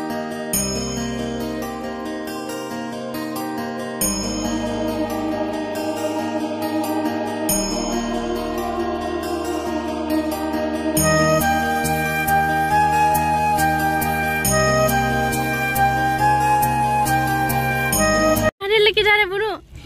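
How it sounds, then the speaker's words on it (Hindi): A Hindu temple aarti ritual continues throughout with steady devotional music and ringing tones that hold at an even level, close and unbroken, before a brief cut near the end. "ये जो पीछे आवाज़ आ रही है, मंदिर में आरती चल रही है"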